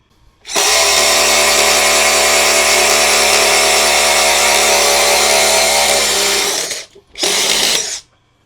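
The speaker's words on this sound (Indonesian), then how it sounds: "Kita coba pengeboran ke sini ya." A DongCheng DCPL165 cordless impact driver with a 2 Ah battery whirs loudly and steadily while drilling for about six seconds, stops briefly, then gives one more short burst, close up.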